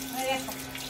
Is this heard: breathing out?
no